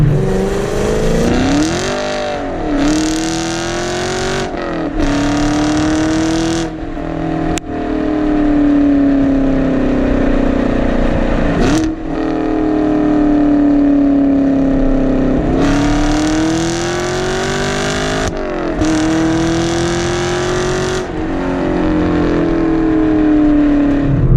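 An ethanol-fuelled Chevrolet Camaro making about 460 horsepower to the tires accelerates hard on a road, its engine droning loud and close and rising in pitch through several gear changes, each shift marked by a brief dip.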